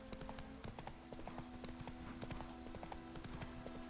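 Steady rhythmic horse hooves clip-clopping in the Witcher 3 video game, a continuous brisk trot over about four seconds with a faint musical drone underneath.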